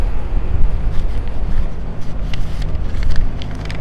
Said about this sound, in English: A little bit windy out here today, so having a little bit of difficulty with papers.